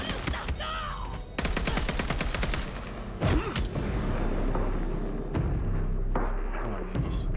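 Gunshots in Vampire: The Masquerade - Bloodlines 2 ring out as rapid automatic bursts and heavy single thumps, loud and close, over a busy combat background.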